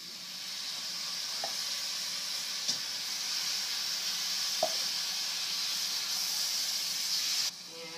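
A pan of dried spices for black bean chili hisses with a steady, even sizzle after tomatoes go in, with a few faint clinks before it drops slightly at the end.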